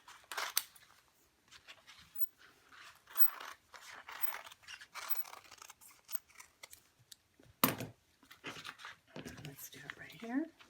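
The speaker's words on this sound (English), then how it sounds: "I'm going to cut out as many petals and, as many leaves as I possibly can" Scissors snip through folded quilting fabric to cut out flower petals and leaves, a run of short, close crisp cuts with small rustles and handling noises between them, broken by a sharper clack near the end.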